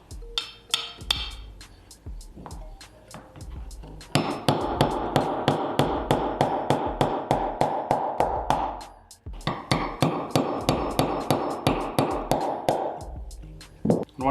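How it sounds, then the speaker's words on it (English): A hammer taps an XS DXT2 Big Dot rear sight into the dovetail of a Glock. There are dozens of quick, sharp, close metallic taps in a steady rhythm, in two long bursts separated by a brief pause. "Well, I'm going to take a hammer."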